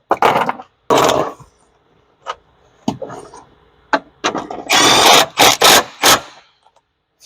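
An impact wrench works the strut bolts on a Lexus ES300 in short, loud, close bursts, several separate rattling hits with gaps between them and a quicker cluster of bursts near the end.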